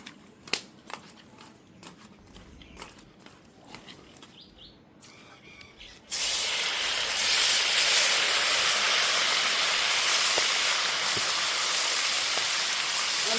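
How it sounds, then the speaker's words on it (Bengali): Small chapila fish fry in hot oil, a loud, dense, steady sizzling hiss that starts abruptly partway through after a quieter stretch of scattered clinks and knocks. "মাছটা ভেজে নিয়েছি, তুলে নেব।"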